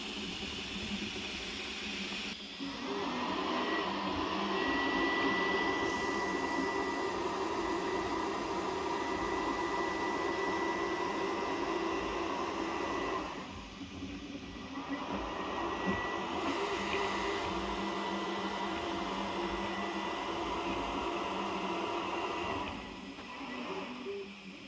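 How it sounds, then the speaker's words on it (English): Steady whirring of a 3D printer's cooling fans with a constant mechanical hum, dipping briefly a couple of times, no voices. "as the print starts, you'll notice the fans are not as loud."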